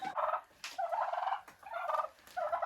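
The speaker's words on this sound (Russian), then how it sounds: "Вот так вот сидят индюки в теплице." Several turkeys gobble in a greenhouse, with young roosters kept alongside them. The calls come in four bursts of rapid warbling, close and fairly loud, and there is no talk.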